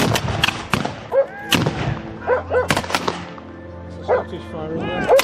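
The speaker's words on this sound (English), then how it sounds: "Scottish firing there." Jacobite re-enactors firing muskets at Swarkestone Bridge, with several sharp cracking shots scattered over a few seconds amid outdoor crowd noise, voices and a barking dog.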